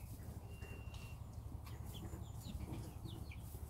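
Cheonggye (Araucana-type) chickens cluck softly in a farm yard, a few short calls scattered over a steady low background hum, with no talk.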